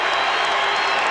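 A basketball arena crowd in an NBA Pistons at Pacers game roars and claps after a blocking foul call, a dense, loud, sustained wash of cheering with no gaps.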